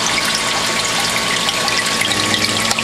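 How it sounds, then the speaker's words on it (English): An external pump pushes water back into an aquarium tank fitted with a protein skimmer. A loud, steady gush of moving water carries a faint pump whine, continuous and close, with no talking. "external pump pumping the water back into the tank"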